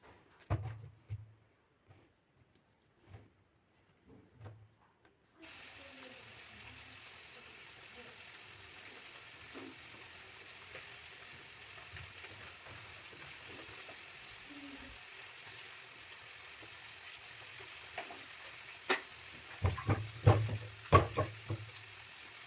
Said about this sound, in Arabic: هنا غادي نضيفوه غير في الطحين وغادي نقليوه